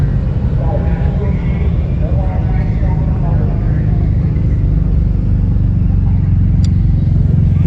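A turbocharged Ford Coyote V8 car engine rumbles steadily up close through a bumper-exit exhaust, a deep continuous drone with faint voices talking underneath, at a Street Car Takeover event.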